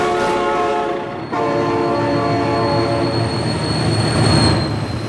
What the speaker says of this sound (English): Oh my God, train!